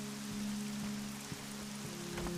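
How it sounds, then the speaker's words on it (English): Steady rain falls in the DayZ video game, a soft even hiss of drops with a low hum underneath and a few faint bumps. "Rain never killed anybody now"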